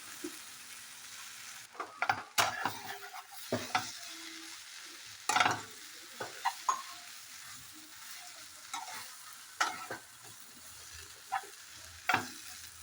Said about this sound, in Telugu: ఇది బాగా వేగింది కదా, వీటిలో మనం ముందుగా ప్రిపేర్ చేసుకుని బ్రెడ్ స్లైసెస్ వేసుకోవాలి.